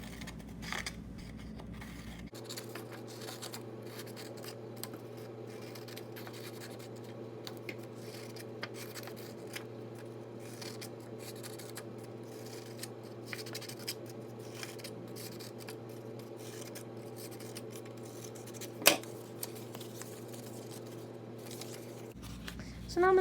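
Scissors snip through paper strips being cut out for 3D paper flowers, a soft run of close crisp cuts and rustles over a steady low hum, with a sharper snip near the end and no speech.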